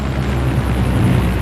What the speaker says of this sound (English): First up is a medley of frontline helicopters from Apaches to Sea Kings and Chinooks